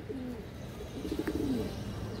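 Pigeons from a hobby collection of racers, high flyers and fancy colored birds give a soft, low cooing, one or two short rolling calls close by over a quiet background.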